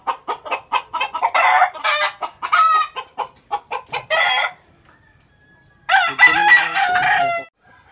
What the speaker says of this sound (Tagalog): Nahuli ko yung manok guys.